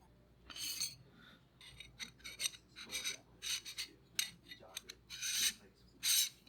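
A detachable part being unscrewed from an 82mm thread lens adapter gives a series of short, close rasping and scraping bursts in an uneven rhythm, with quiet gaps between them.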